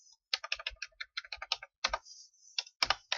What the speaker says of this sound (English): you start typing Me Gusta